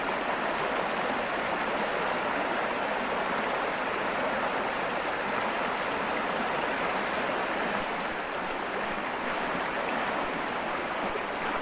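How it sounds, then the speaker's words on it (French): A wide stream cascading down toward the Semois river, its broad steady rush of water continuous and fairly close throughout, with no voices. "Là, c'est un beau et large ruisseau"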